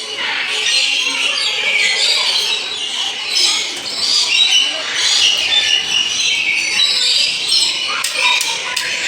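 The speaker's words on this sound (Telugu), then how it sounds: "ఒకసారి చూసుకోవచ్చు ఆ పక్షుల సౌండ్ ఎలా ఉందో." Many birds squawk and chatter continuously in an aviary at a bird rehabilitation centre, a dense, bright, close chorus with no clear pauses.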